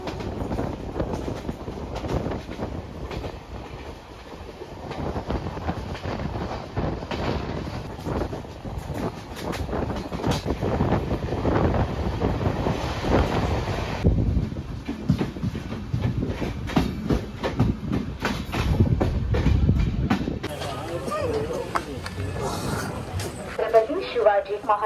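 The Konkan Kanya Express rolls along at speed, heard from inside a packed general coach: a loud, continuous rumble with rhythmic clickety-clack of wheels and wind noise, and people talking faintly throughout.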